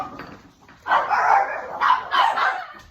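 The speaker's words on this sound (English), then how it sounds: "the dogs went crazy" Dogs bark excitedly in several loud, close bursts of overlapping yaps, with brief pauses between them and no talking.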